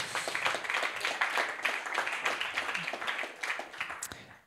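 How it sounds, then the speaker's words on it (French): An audience claps at a French round-table event on rurality, the steady applause lasting several seconds before fading out at the end. "on peut l'applaudir aussi."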